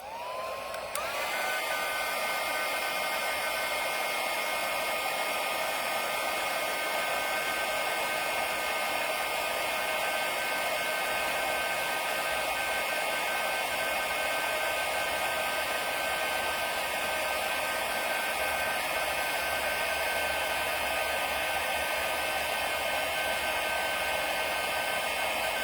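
An embossing heat tool blows hot air over a stamped strawberry card, a loud, steady whirring roar that starts abruptly and runs unbroken for the whole stretch, close and alone.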